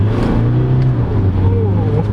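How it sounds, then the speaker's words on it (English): Mazda BT-50 3.0-litre turbocharged four-cylinder diesel pickup (2022, automatic) accelerating, a steady low engine drone with rising harmonics, heard from inside the cabin with a person speaking over it. "I finally got to experience this 3-liter turbocharged 4-cylinder diesel engine."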